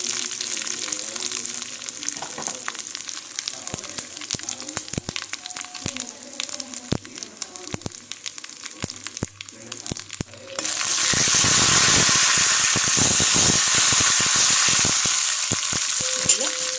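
Curry leaves and cumin seeds hit hot oil while making yogurt chutney, starting with scattered crackles and pops, then breaking into a loud, steady sizzle that carries on to the end.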